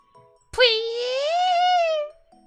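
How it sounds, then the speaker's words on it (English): A sharp click is followed by a bright, sustained whistling squirt that holds steady for about a second and a half before cutting off, like a cartoon sound effect. "That was the sound of blood squirting from Rena's nose."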